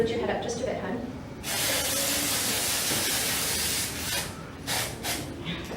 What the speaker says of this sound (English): And then, of course, we have some glitter hairspray.